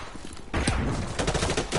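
A burst of gunfire rattles out of a Call of Duty: Modern Warfare 2 firefight after a short quieter lead-in. The shots are loud, close and dense.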